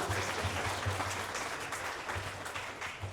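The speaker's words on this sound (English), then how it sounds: "a big round of applause first to welcome them to Kota Kinabalu, Sabah" Audience applause welcoming speakers at an Airbnb investment forum in Kota Kinabalu, Sabah: steady, moderately loud clapping from a crowd, continuing without a break and with no talk.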